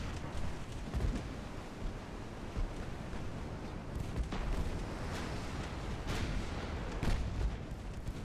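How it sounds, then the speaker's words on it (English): 7-inch naval guns fire in the video game Dreadnought Improvement Project, sending a handful of deep, distant booms at irregular intervals over a low, rumbling sea-and-wind background. "That's the 7-inch guns firing."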